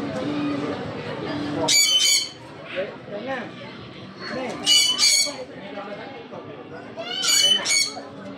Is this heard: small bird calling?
yes